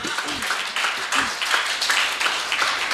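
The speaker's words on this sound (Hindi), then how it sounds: "एक बार इनके लिए जोरदार तालियां" Audience applause at a Bareilly poetry gathering, a dense, steady clatter of many hands clapping throughout, with some voices mixed in.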